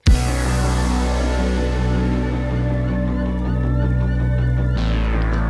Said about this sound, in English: you can hear that guitar chug going on in the background